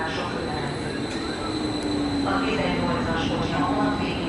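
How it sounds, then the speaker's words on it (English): A train rumbles through Budapest Kelenföld station on a summer day, a steady low mechanical roar with faint high squeals from the wheels, while a voice talks over it. "There's the train to Dürr, one of Hungary's most depressing cities."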